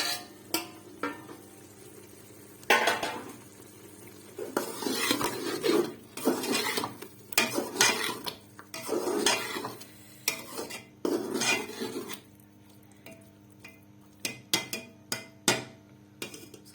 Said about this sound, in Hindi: भूनेंगे तकरीबन हम कोई 5-7 मिनट इसकी बुनाई होगी